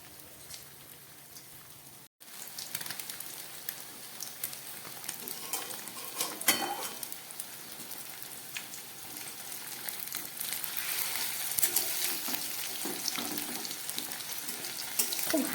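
Paneer cubes frying in a pan over low gas, a steady close sizzle with faint stirring that starts after a brief silence and builds gradually louder, no voices.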